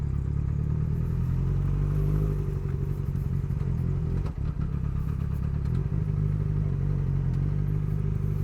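A motorcycle ridden with a snapped clutch cable gives a steady, loud engine drone with rumbling low tones and a brief clatter midway, heard alone without speech.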